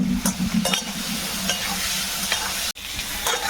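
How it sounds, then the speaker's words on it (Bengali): Pointed gourd frying in a pan with salt and turmeric makes a loud, continuous sizzle, with spatula scrapes and stirring knocks throughout and a brief sudden gap near the end, without any speech. "এবারে পটলটা আলাদা করে একটু ভেজে নিচ্ছি একটু লবণ আর হলুদ দিয়ে"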